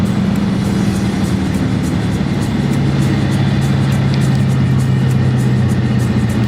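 A car engine drones at a steady, loud, constant pitch as the car cruises after accelerating, without a clear drop in revs; no one speaks.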